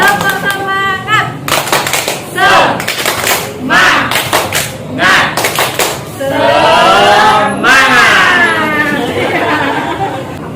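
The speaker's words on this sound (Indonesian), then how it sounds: "Ayo kita tepuk semangat dulu. Tepuk semangat." A group of students in a school setting in Gianyar, Bali performs the 'tepuk semangat' cheer, sharp rhythmic bursts of clapping mixed with loud chanted voices, followed by a sustained group shout at close range.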